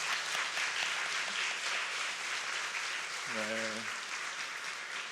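A church congregation at a Sunday worship service applauds steadily throughout, a dense wash of clapping filling the room, while someone briefly speaks a short word near the end.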